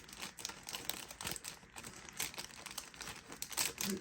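Stiff plastic crinkling and crackling in bursts, close by, with scattered snips and rustles as packaging is worked with scissors; no talking.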